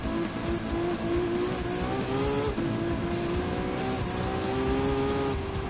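Race car engines in the video game Gran Turismo 7 with a Ferrari Testarossa on track, a steady loud droning whine that rises and dips with gear changes, continuous and close, no talking.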